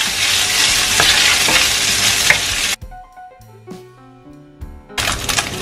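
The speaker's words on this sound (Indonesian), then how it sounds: "setelah minyaknya panas, masukkan tahu. Kasih tumis sebentar sampai agak kecoklatan" Tofu stir-frying in hot oil for a spicy eggplant and tofu dish, a loud steady sizzle with spatula scrapes and clanks, briefly dropping to quieter utensil clinks before the sizzle returns.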